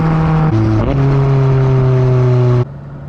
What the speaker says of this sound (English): a high revving twin turbo V8